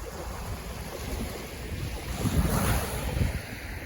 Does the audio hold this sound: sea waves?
yes